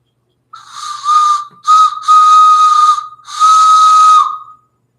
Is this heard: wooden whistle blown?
yes